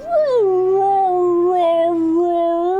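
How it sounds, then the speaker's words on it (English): A husky howls loudly and close, a single long, wavering, tonal howl that holds steady for nearly three seconds indoors. "Made my dog howl."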